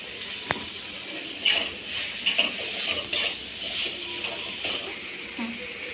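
Tomato chutney with tomato and coriander leaves sautéing in a pan, a steady soft sizzle with scattered scrapes and stirring knocks of a utensil, a voice talking over it at moments.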